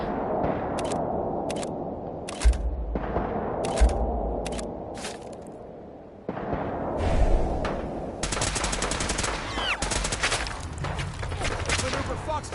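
Video game gunfire in Fallout 4: clipped, rhythmic shots snap out in short separated groups, then give way to a dense, continuous rattle of rapid fire toward the end, with some low booms and faint voices beneath.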